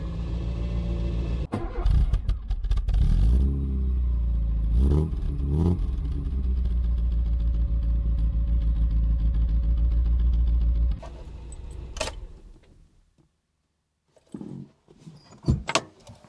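A car engine idles with a deep, steady rumble, revving briefly a few times, then cuts off, followed by clunks and rattles.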